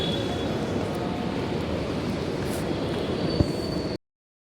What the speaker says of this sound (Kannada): ನೋಡಿ ಗೈಸ್, ಮೆಟ್ರೋ ಬಂದಿದ್ದೀರಿ.